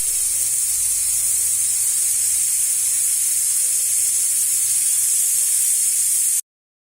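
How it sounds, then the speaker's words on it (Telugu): A pressure cooker cooking spinach dal releases steam in a loud, continuous high hiss that stays even throughout before cutting off abruptly, with no voices present. "దీనికి కుక్కర్కి మూత పెట్టేసి ఒక 2 విజిల్స్ వచ్చేంత వరకు దీన్ని కుక్ చేసుకుందాము"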